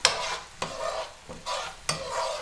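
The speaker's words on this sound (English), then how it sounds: "So we're sauteing this up a little bit." Garlic, onions and green peppers saute in a pan with a steady sizzle, broken by four scraping stirs of a utensil at regular intervals. No voices are heard.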